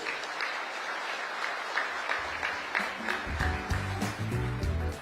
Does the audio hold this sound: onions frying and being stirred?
no